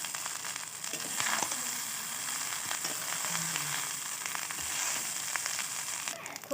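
Rice and vegetables being stir-fried in a pan for mixed fried rice, a quiet continuous sizzle with occasional light stirring scrapes and crackles, no one talking.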